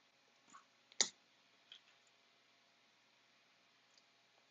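A few clicky mechanical keyboard switches, like blue switches, pressed near the microphone, with one sharp loud click standing out among softer, sparse clicks over faint background hiss.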